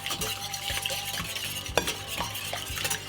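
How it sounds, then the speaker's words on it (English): Three eggs are whisked by hand in a bowl with a heavy-duty whisk, quick rhythmic clinks and swishes against the bowl for a few seconds, close and fairly loud. "So I'm going to start with 3 eggs. I like to whisk these a little bit."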